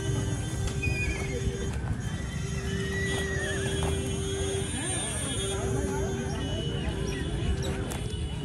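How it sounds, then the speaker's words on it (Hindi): Horses at the Soron horse fair neigh and whinny amid hoof clip-clops and crowd murmur, with people talking nearby throughout. "आप देख सकते हो मंडी में बहुत तादाद में घोड़ा घोड़ी आए हुए हैं।"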